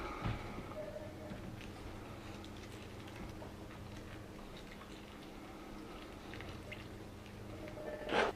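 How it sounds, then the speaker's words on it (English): Water poured through a potted philodendron drains and drips into a bowl beneath, a steady faint trickle with soft irregular droplets, close and low under a constant room hum. "So I'm gonna water it through and then let it sit in this bowl of water for about an hour."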